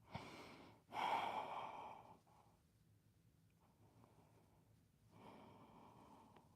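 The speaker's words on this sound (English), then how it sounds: "Remembering to breathe, finding your inhale and your exhale" Close breathing during a gentle yoga forward fold: a quick, sharp inhale, then a long, audible exhale, a quiet pause, and another slow breath rising near the end.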